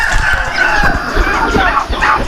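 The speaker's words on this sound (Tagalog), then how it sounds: "Ayan, nagsalipitan na yung mga manok" Chickens on a farm cluck and crow in a loud, close flock, overlapping calls filling the short stretch with some background noise.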